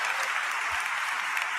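Brief burst of crowd applause for Ben Crump at a gathering about a case, dense clapping at moderate level with no break.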